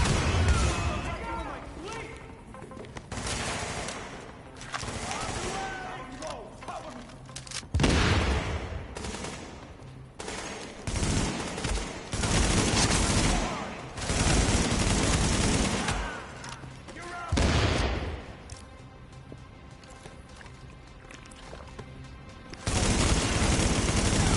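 Shotgun and other gunfire in The Division, a video game played on PS5, with loud bursts of repeated shots and booms spread across the stretch, heard under talking players.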